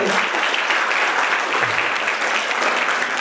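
A crowd claps continuously and densely at a district-level mathematics talent exam event held in a hall, and a faint voice is briefly audible beneath the clapping.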